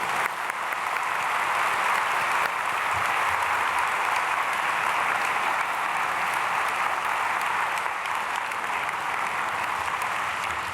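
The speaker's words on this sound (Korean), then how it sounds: "우리 사모님에게 한번 박수 한번 드려요." A church congregation at an early-morning prayer service applauds steadily for about ten seconds, a dense, even clapping that fills the room at moderate distance.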